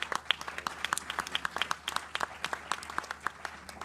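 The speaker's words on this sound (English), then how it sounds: "let's have a round of applause for Congressman Ted Deutsch" Scattered applause from a conference audience honoring a congressman, a sparse patter of separate claps at low level, fairly distant and brief.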